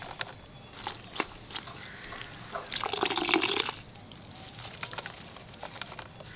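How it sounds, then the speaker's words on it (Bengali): Washed food sits in a basket draining water, with soft drips and splashes that swell into a brief louder gush of running water before settling back to quiet trickles and clicks. "এই ঝুড়িতে রেখে দেবো, তাহলে জল ঝরে যাবে।"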